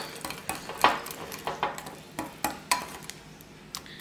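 Spoon scraping and clinking against a bowl while indigo hair dye paste is mixed, a series of sharp, irregular taps and scrapes spaced about half a second apart, close and fairly quiet.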